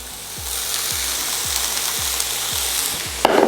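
Onion, garlic, peppers and celery sizzle steadily in a pan, a bright continuous frying hiss close by, with background music and a sharper burst of sizzle near the end.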